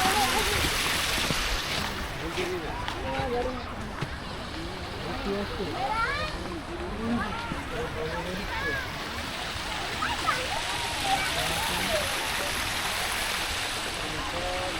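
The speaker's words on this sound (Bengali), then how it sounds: "এখানে একটা ঝর্ণা সিস্টেম করা আছে" Water from an artificial fountain splashes and rushes steadily at a dam picnic spot near Hampi, a continuous broadband wash with people talking and calling over it throughout.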